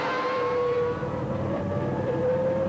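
Formula 1 race cars of the 1991 season, Mansell chasing Senna down the start-finish straight, give a steady loud engine whine with rising harmonic tones over a dense rumble, no voices present.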